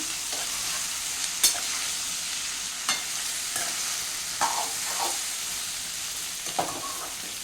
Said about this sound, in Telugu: 1/2 kg బెండకాయ కట్ చేసి పెట్టుకున్నాను కదండి, అది ఇందులో వేసేస్తాము. కలుపుదామండి.